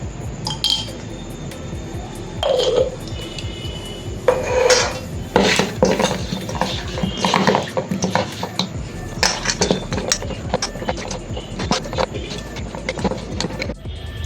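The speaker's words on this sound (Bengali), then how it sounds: "নুন হলুদি মাছটা ভালো করে মেখে নিই" Fish pieces are rubbed with salt and turmeric in a dish, producing irregular clinks and scrapes of utensils and the bowl with soft wet handling noises over about fourteen seconds, without talk.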